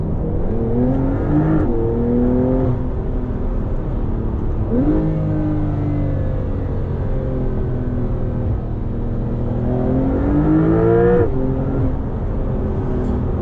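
A 2020 Porsche 911 (992) Carrera S accelerating hard in Sport Plus mode, heard from inside: a loud engine note climbs steadily, breaks briefly at each upshift, then climbs again.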